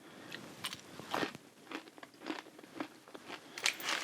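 Spiced pumpkin seeds crunch between the teeth close to the mic, with a string of crisp bites and irregular chewing crackles over about four seconds.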